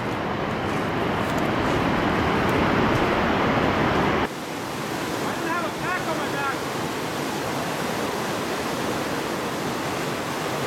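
Rushing creek in the Idaho backcountry, a loud, steady roar of water. Partway through it drops to a lower, softer rush, with faint bird chirps over it.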